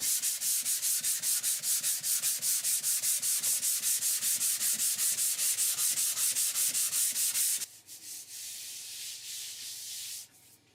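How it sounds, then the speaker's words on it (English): Steady, rhythmic strokes of sanding across a drywall seam, loud and close with a regular back-and-forth pulse, then a softer, quieter rubbing in the last few seconds before it stops. "I decided to sand the surface a little more."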